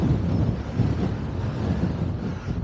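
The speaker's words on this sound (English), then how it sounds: "you're always near the seaside, which means there's always going to be wind" Wind roars steadily across a seaside links golf course, a dense, continuous low rumble of gusts buffeting the microphone with no other sounds over it.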